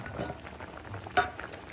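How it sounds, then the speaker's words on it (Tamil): Chicken tikka masala gravy bubbles and simmers in a pan, a steady soft frying hiss with a brief louder clink or splatter near the middle. "இப்போ இது நல்லா கொதிக்குது."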